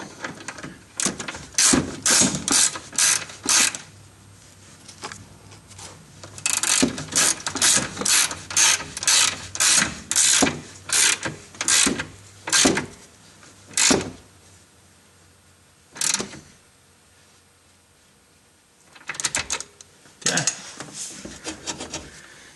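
A wrench ratchets a bolt tight on the lower lateral control arm of a Mitsubishi Eclipse, with repeated bursts of clicking pawl strokes, loud and close, separated by pauses.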